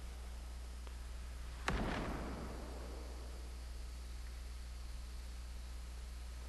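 A single sharp sniper rifle shot cracks out in Fortnite, a sudden loud report with a brief decaying tail over a steady low background hum, followed by near silence.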